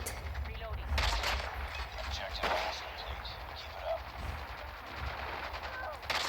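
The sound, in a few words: gunfire in video game Call of Duty Mobile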